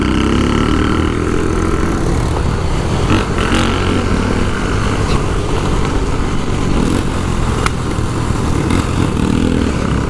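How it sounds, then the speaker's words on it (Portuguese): Shineray motorcycles on a group ride rev and accelerate together in a loud, dense engine roar that rises and falls close by, with a few sharp pops cutting through. "Olha os moleques acelerando."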